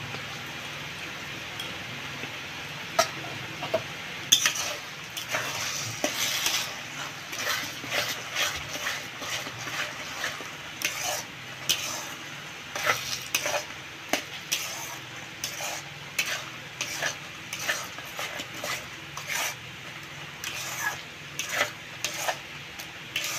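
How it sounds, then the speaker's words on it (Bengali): A spoon works mashed taro paste with mustard and coconut in a pan, producing a run of sharp scraping and tapping strokes over a soft sizzle, fairly close and steady. "কচু বাটাটা আর একটু নেড়ে শুকায় নেব, নেড়ে চেড়ে।"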